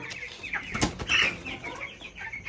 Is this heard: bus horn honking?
no